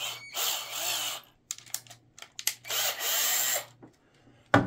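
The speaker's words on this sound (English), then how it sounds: "we're going to ream that out just a little bit" A power drill reams out a splined guitar tone knob in short close bursts: two longer whirring runs broken by quick trigger blips, with a sharp click at the end.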